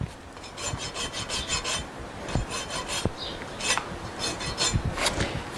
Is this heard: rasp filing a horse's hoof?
yes